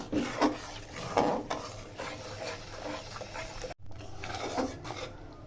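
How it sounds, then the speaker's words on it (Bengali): Green chilli sauce with tamarind and white vinegar being stirred in a pan, with soft scraping and rubbing strokes repeating at an uneven pace, close and fairly quiet, with no talking. "দিয়ে আমি আবারও কিছুক্ষণ নেড়ে নিব"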